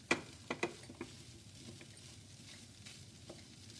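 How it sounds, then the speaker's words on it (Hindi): Food is stirred and cooked in a pan in a home kitchen, with a few sharp scraping clinks of the spoon against the pan early on over a soft, steady sizzle, then quieter stirring scrapes. "मिक्स करके कुक करते रहेंगे।"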